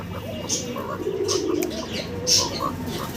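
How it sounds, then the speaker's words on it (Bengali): A pair of blue bar racer pigeons coo softly and steadily, with low, rolling calls and a few higher chirps, close by amid a faint background hum. "এক জোড়া রেসার কবুতর আছে"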